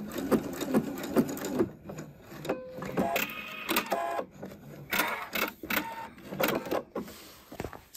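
A sewing machine stitches around the pocket bag of a welt pocket in uneven bursts of fast mechanical clatter, close and fairly loud, broken by short pauses and clicks.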